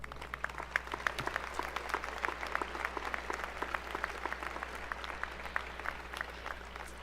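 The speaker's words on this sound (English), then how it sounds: "Please give the alumni your round of applause." Sustained audience applause at a high school graduation ceremony in Fargo, dense clapping from a large crowd, steady and continuous throughout with no talk over it.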